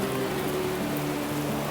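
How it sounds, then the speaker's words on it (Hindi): Steady, dense rain hisses evenly throughout, a continuous wash of falling water with no gaps or voices. "और बारिश देखो कितनी ज़ोरदार बारिश लगी है।"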